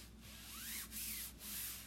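Ink being rubbed onto a Chalk Couture transfer over a skull design, a quiet close scratchy rubbing in short back-and-forth strokes with brief pauses between them, no talking.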